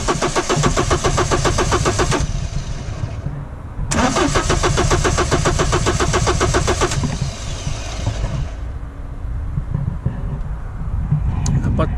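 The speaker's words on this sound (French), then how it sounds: "Vas-y, mets un coup de démarreur" HDI/DCI diesel car that will not start, its starter motor cranking loudly and rhythmically up close in two long bursts with a short pause between, followed by a lower rumbling hum and faint clicks.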